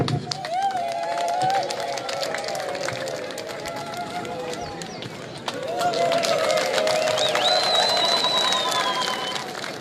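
A crowd applauds at a community ceremony in Mukwija, a steady wash of clapping that holds for several seconds, with voices and a tonal sound over it and a swell in the second half.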